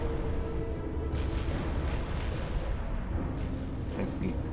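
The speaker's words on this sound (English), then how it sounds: "Has a huge explosion." A power generator explodes in the Supreme Commander Forged Alliance real-time strategy game, a heavy rumbling boom followed by crackling blasts that roll on for several seconds at steady loudness.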